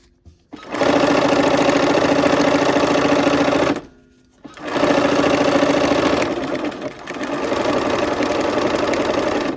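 A sewing machine stitches a quilt seam in the Wild Goose Chase pattern, running in loud, steady whirring bursts close by, with a brief pause after the first long run and a short hitch before the final stretch.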